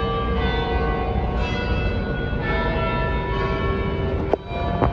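A church bell in New York City rings steadily and fairly loudly. Its sustained, humming tone carries through the whole stretch alongside low outdoor rumble, with a brief knock near the end.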